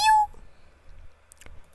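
A single short, bright cat meow from the Minecraft video game opens the moment, followed by near silence with only a couple of tiny clicks.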